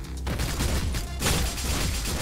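Dense, continuous pistol gunfire from the OTXO game, a fast barrage of overlapping shots filling the whole stretch with a brief lull just before the firing swells louder again.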